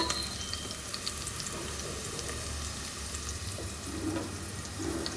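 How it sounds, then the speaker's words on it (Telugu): Onions fry in hot oil in a pan on the way to golden brown for a paneer veg pulav, giving a steady, close sizzle and crackle with faint stirring. "ఆనియన్స్ ఇలాగా మంచిగా గోల్డెన్ బ్రౌన్ కలర్లోకి ఫ్రై అవ్వాలి."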